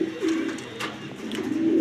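A grizzle racer hen pigeon coos in soft, low repeated phrases close by, with faint rustling behind it.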